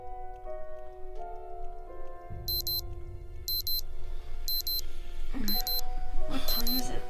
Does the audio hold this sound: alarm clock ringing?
yes